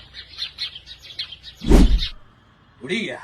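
Sparrows being fed chirp in a quick, repeated series of high tweets, followed by a loud close thump and then a person briefly speaking.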